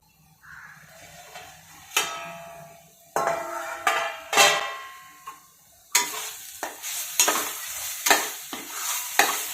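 Spices for dhaba-style Punjabi rajma gravy sautéing in hot oil in a pan, a steady close sizzle broken by repeated sharp scrapes and clanks of a spoon stirring against the metal, loud and irregular.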